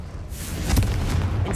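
A Confringo explosion spell goes off in Hogwarts Legacy, one short, dull, booming blast with a rumbling tail, loud and close.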